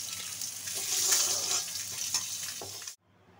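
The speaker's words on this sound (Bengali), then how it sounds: "ডিমগুলো একটু ভাজা হোক, সামান্য ভাজবো" Eggs sizzle in hot oil with turmeric and salt, a bright, close frying hiss that holds steady for about three seconds and then cuts off abruptly.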